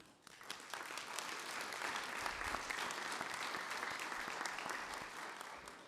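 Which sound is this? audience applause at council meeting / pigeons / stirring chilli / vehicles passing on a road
audience applause at council meeting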